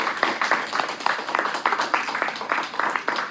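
An indoor conference audience gives a short burst of steady applause, many hands clapping together at close range throughout.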